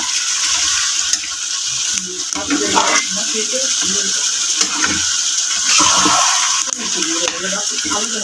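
Beef cooks over a clay stove in a village kitchen, giving off a constant loud sizzle with wet scraping as it is stirred, and a faint voice occasionally under it.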